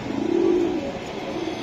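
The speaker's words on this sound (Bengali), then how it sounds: "অস্থির কবুতর, মাকড়া সবুজ গুলো" A pair of Makra green pigeons gives a single low, drawn-out coo up close, with faint background noise and no voices.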